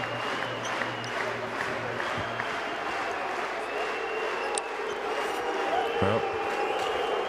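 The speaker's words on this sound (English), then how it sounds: "the Ultras, part of the armpit section, cheering away" Ultras supporters in the armpit section cheer and clap through a Basketball Champions League game between Limoges CSP and MHP Riesen, a steady roar of crowd noise filling the arena beneath a commentator's voice.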